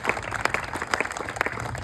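Audience applause at a felicitation ceremony for Mangala Patil, a steady burst of many hands clapping throughout.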